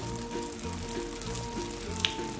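Bangus fish lumpia rolls with carrots and celery fry in hot oil, giving a steady, close sizzle with light crackling pops throughout and no talking.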